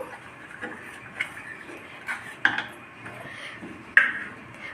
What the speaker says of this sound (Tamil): உப்பு போட்டு இதே நல்லா கிண்டி நல்லா உப்பு கரையட்டும்